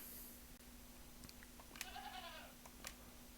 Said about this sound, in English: Ah, goat.